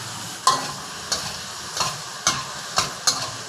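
Mushrooms stir-fried over medium-high heat in a pan after soy sauce, oyster sauce and sugar go in: a steady sizzle punctuated by six rhythmic scraping tosses of a spatula, close up and without speech.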